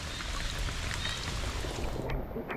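Steady rain falling outdoors during a fishing trip, a dense, even hiss of drops with no pauses, filling the short stretch at a constant level.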